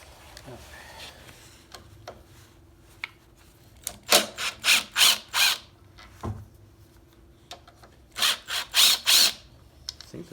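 A hand ratchet loosens the carburetor on a Briggs & Stratton overhead-valve engine from a Toro Super Recycler mower, bursts of rapid clicking strokes in two groups separated by quieter tool handling, close up.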